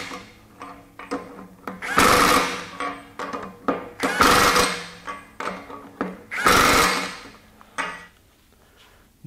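A RIDGID R86211 high-torque impact wrench in auto mode tightens bolts in three loud, close bursts of rapid hammering, each lasting about a second, separated by quieter pauses with faint handling clatter.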